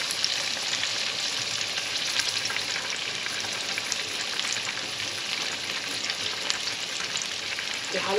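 Garlic and onion fry in a pan with a steady, dense sizzle and crackle that runs without a break, close up and fairly loud, and no voices are heard.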